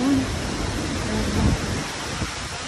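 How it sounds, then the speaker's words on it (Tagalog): Heavy typhoon rain and strong gusting wind at Dolomite Beach on Manila Bay, a loud continuous roaring wash with faint voices beneath it. "ang lakas ng ulan at ang lakas ng hangin"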